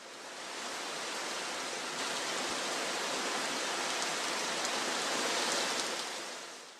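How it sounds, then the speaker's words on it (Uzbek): Steady heavy rain pours down in a jungle setting, a dense continuous hiss of falling water with no breaks, no talking and no other distinct sounds. "Tinmay quyayotgan yomg'ir irmoqlar hosil qiladi."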